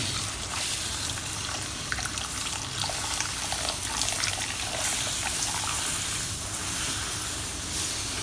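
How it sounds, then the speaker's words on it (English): Milk pours steadily into a pan of cooking roux for a mushroom and onion béchamel while it is stirred, giving a continuous soft liquid splash and swish that stays close and even throughout. "Keep stirring with one hand and add the milk"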